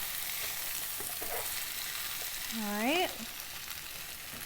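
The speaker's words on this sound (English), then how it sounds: "Do a nice turnover of the vegetables here." Vegetables for a vegan pad thai tossed in a hot pan, a steady close sizzle throughout with a brief spoken phrase near the middle.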